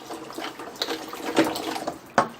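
About a litre of warm water is poured into a container for pickling olives. It makes a soft, uneven splashing with a few sharper splashes and no talking.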